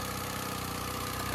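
A Yamaha 9.9hp outboard motor running after a new water-pump impeller has been fitted, a steady close mechanical idle with a regular low throb and no voices.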